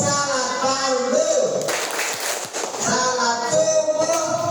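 Children clap together through a rhythmic classroom clap song, a loud patter of many hands bursting out between stretches of sung chanting.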